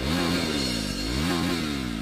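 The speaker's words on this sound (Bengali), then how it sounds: "মোটরসাইকেল স্টার্ট করতে হবে।" A motorcycle engine cranks and revs in short rising-and-falling bursts, close and fairly loud, sounding labored as if fuel is running low, with no talking.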